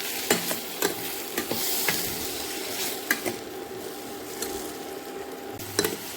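Onions, tomato and curry leaves are sautéed with salt for onion tomato chutney, producing a steady sizzle punctuated by sharp ladle clicks against the pan.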